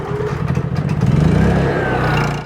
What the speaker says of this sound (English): I'm gonna start the generator